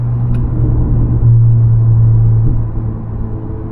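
An Acura Integra four-cylinder engine fitted with a Remark exhaust drones with a deep, steady low rumble and a sustained hum that swells at mid-clip and then eases off, loud and close, with no talking.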